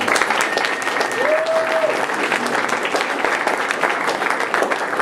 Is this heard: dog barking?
no